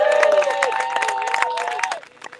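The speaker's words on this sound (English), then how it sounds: "So we can applaud for that." Audience applause and cheering at a leadership award ceremony, a dense crowd of clapping with whoops and calls, loud at first and then tapering off near the end.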